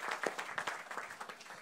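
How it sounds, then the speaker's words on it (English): A small panel-discussion audience claps for honorees: a faint, distant patter of scattered hands in a loose, uneven rhythm, brief and fairly thin. "let's give them a round of applause"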